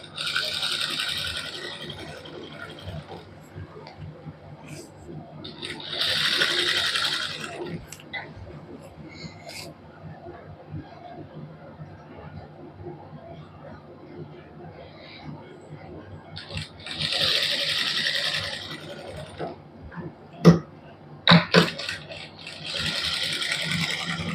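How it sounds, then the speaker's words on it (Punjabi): A sewing machine stitching a suit neckline runs in short mechanical bursts separated by quieter pauses, with a person talking softly throughout. "ਕਢਾਈ ਦੇ ਨਾਲ ਨਾਲ ਤੇ ਸਿਲਾਈ ਲਾਵਾਂਗੇ"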